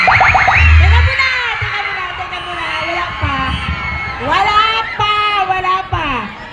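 Students at school intramurals shout and cheer in a loud crowd roar, with rising whoops and sustained yells swelling in bursts near and far, mixed with a voice and heavy thumping.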